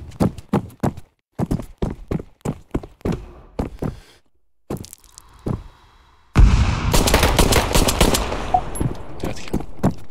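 Pistol shots in Arma 3 ring out as a rapid, evenly spaced series of sharp, loud cracks, followed by a short pause and then a dense, noisy stretch of heavier continuous fire and impacts.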